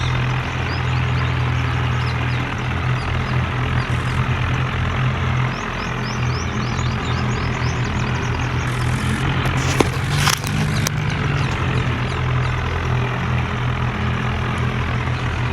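Two tractors hauling three loaded trailers, engines running together in a loud, steady diesel drone with a low throbbing hum, heard up close and unbroken for the whole stretch, with a brief clatter partway through.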